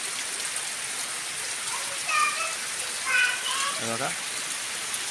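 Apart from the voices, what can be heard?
monsoon rain falling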